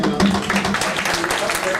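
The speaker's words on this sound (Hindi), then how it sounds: "जितोई साहब के लिए भरपूर तालियां" An audience at a lawyers' forum event in Faisalabad claps steadily throughout, with a voice speaking over the applause.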